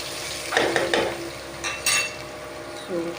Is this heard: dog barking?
no